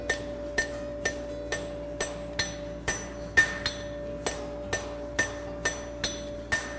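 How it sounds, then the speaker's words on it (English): A hammer strikes a Z bar horseshoe being forged on an anvil, giving about a dozen evenly spaced, ringing metallic blows with a bright ring after each hit. "Straight down hammer swing, just have the hammer turned in my hand."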